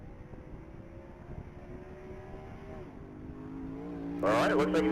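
A 2011 Corvette Z06 on a top speed mile run at the Texas Mile, its engine droning faintly in the distance with a rising pitch, swelling louder and harsher as it accelerates near the end.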